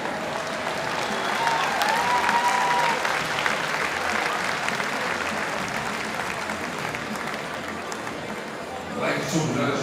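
Sustained audience applause at a studbook stallion presentation for horses 13 years and older, dense and steady throughout, with a commentator talking over it and faint hoofbeats beneath.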